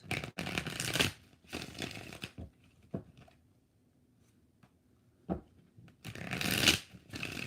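Tarot cards being shuffled in three quick riffling bursts, close and crisp, with quieter handling in between.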